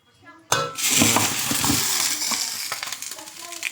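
A fried vegetable mix for plov is tipped onto meat in a pan. After a short quiet lead-in it bursts into loud, close sizzling, with a few utensil clinks and stirring scrapes as the sizzle slowly settles.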